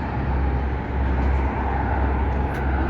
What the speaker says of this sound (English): back southbound here for all the car traffic rolling along.